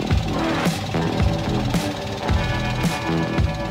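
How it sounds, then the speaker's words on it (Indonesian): A Toyota Agya TRD 1.0 automatic car with its engine running, giving a steady mechanical idle with repeated rhythmic clattering thumps roughly every second. "Suara mesinnya juga masih enak didengar ya, masih lembut."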